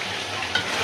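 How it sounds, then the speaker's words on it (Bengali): Chicken pieces fry and sizzle steadily in a pan with cumin and spices for a country chicken and potato curry, a dense continuous hiss with a brief stir, no talking. "আমার মুরগি একদম ভাজা ভাজা করে সুন্দর করে কষাইছি এতক্ষণ লাগাইয়া"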